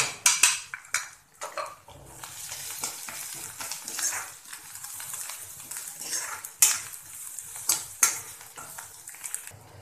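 Onions fry and sizzle in a kadhai for an Indian lunch of chana dal with lauki, while a metal spoon scrapes and clatters against the pan in repeated close strokes, loud at the start and easing into a steady sizzle.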